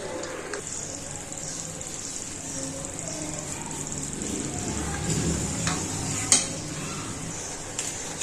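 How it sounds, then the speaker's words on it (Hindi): Red chili powder dropped into hot oil in a pan gives a steady close sizzle and frying hiss, with stirring scrapes and one sharp utensil clink near the end. "तो अभी मैं इसमें रेड चिली पाउडर डालती हूँ।"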